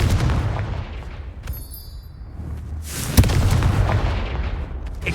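Loud blasts and booms from the Confringo spell in Hogwarts Legacy, one sharp burst near the middle over continuous rumbling game noise.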